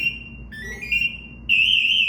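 A firefighter's distress alarm sounds loud, piercing electronic tones, a steady beep that shifts pitch and then jumps to a louder, warbling shriek.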